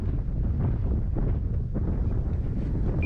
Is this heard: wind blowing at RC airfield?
yes